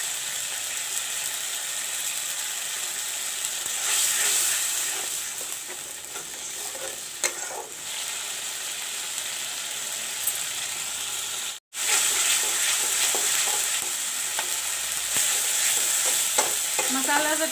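Ginger, garlic and onion paste fries with jeera, pepper paste and chili powder for a mixed vegetable curry, a steady close sizzle broken by stirring scrapes and one brief cut-off before the sizzling resumes.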